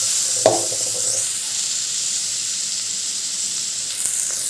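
Ingredients sautéing in a pan for pasta, a steady soft sizzle with a brief clank of a utensil near the start and another faint knock near the end, no voices.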